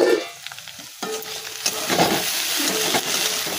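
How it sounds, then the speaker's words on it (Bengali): Bitter gourd and potato frying in a pan, an oily sizzle broken up by scraping stirs that come and go, close and alone without any talk. "আর উচ্ছে আলুটা ভাজবো।"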